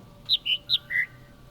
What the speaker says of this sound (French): il y a deux oiseaux qui chantent en même temps